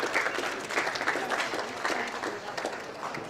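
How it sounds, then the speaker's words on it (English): Audience applause rises at a football league medal night, a steady burst of many hands clapping from a nearby crowd, with a voice heard faintly beneath. "Please give Joanne a round of applause and make her feel welcome."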